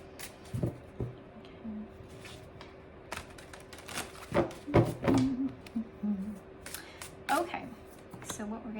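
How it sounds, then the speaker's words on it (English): Tarot cards being reshuffled, a run of crisp papery riffles and soft taps close by over a low steady hum, with a voice talking through parts of it. "I'm going to shuffle again."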